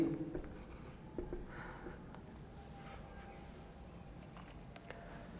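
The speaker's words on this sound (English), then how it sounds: "here I will write" A pen scratches out chemistry structures for amine reactions, a faint, soft scraping that continues steadily while a person speaks over it.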